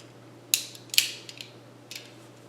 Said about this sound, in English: We're going to pull out our screws. We're going to set this thing to screwdriver.